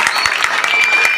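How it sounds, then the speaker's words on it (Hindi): Crowd applause welcoming Sumit Patil at an election gathering in Bhiwandi, a steady wash of clapping with a faint voice underneath, held at an even loudness through the short burst. "जोरदार तालियों के साथ इनका स्वागत करें"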